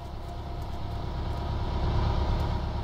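A car engine in the survival game DayZ runs as a steady low rumble, growing slightly louder over a few seconds, with no talk over it.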